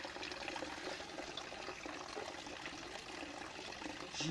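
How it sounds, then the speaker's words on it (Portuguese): Water containing tadpoles pours and trickles steadily at low level, a continuous liquid splashing and dribbling without pause. "Água com girinos."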